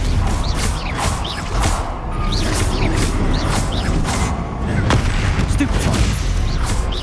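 Stupefy spell effects from the video game Hogwarts Legacy fire in rapid succession, sharp cracking bursts and impacts repeating roughly every half second over steady combat background noise.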